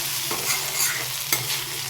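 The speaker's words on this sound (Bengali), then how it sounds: "এখানে ভাজছি আলু পেঁয়াজ ভাজা" Potatoes and onions fry in a pan in a home kitchen, giving a steady broadband sizzle with a few soft scrapes of stirring, close and continuous with no talk.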